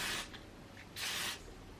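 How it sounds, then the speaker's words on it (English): Hairspray hissing onto hair from an aerosol can in two close, crisp bursts: a short spray at the start, then a longer one about a second later, with quiet between them. "and I'm just going to spray my hair as if I'm going to put it"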